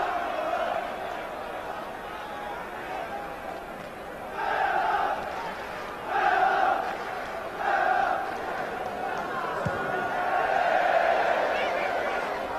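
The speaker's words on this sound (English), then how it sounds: "The crowd are going to cheer everything Cooper does now." A football crowd at Ayresome Park during a 1988 Middlesbrough versus Aston Villa match roars in several distinct swells over a constant distant murmur, with a commentator talking over it.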